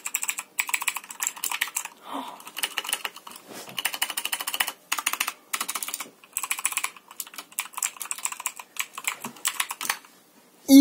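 Fast typing on a Motospeed CK61 mechanical keyboard, crisp clicky keystrokes in quick bursts with brief pauses, close and clear with no talking.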